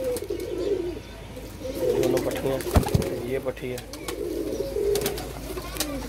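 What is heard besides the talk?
pigeons cooing on a rooftop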